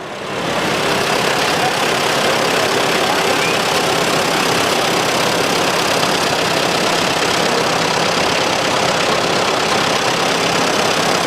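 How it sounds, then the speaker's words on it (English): A 1951 Farmall Super A tractor engine rumbles loud and close during a county fair tractor parade, starting up quickly and then holding a steady, slightly knocking idle without pause. "Next tractor is the Farmall, a 1951 Super A"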